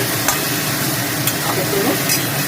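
Tomatoes sizzle and fry steadily in a hot pan for a spicy boal fish curry while a spoon stirs them, with a constant close crackling hiss and faint scraping touches.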